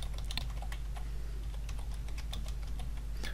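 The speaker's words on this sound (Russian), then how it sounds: "Вводим логин, вводим пароль" Rapid, steady typing on a computer keyboard as a login and password are entered, with close, crisp key clicks over a low hum and no talking.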